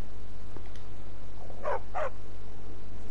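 Two short barks from a dog in the video game Skyrim, played on PS4, close together and fairly clear over a low steady background hum, with no talk during the barks.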